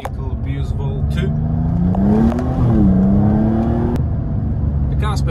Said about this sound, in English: The car's performing very well even in mid or high RPM